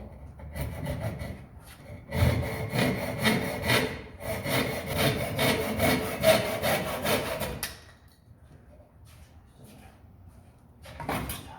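A hand saw cuts wood for a roof truss in a carpentry trade exam, with rapid rhythmic rasping strokes close by, stopping after several seconds before a brief final burst.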